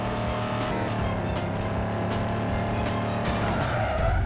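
Car tires skid and squeal in a video game, a loud continuous engine roar and screech with no pauses, heard alone without talk.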